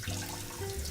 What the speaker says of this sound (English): you're gonna rinse the quinoa with cold water